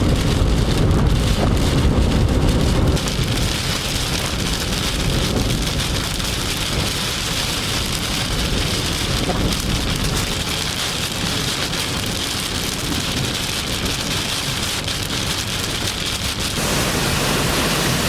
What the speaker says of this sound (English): This storm line that's coming through, they said that it can have up to 60-mile-per-hour wind gusts,